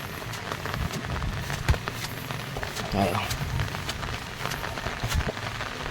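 Heavy monsoon rain that has fallen for a week and flooded a fishpond, a steady dense patter on surfaces with a few sharper drops, moderately loud, while a person talks over it.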